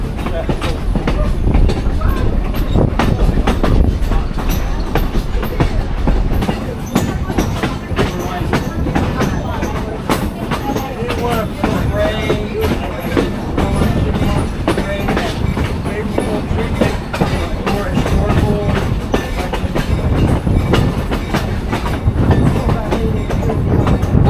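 A train rolls along the Black River & Western Railroad, its continuous rumble and rhythmic clickety-clack heard from on board throughout, with people talking intermittently over the noise.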